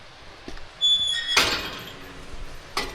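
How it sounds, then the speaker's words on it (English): Squeaky swing gate opening on a mountain walk in North Wales, a short high creaking squeal followed by a louder clattering swing and a faint knock at the end, heard outdoors and fairly close. "Squeaky swing gate."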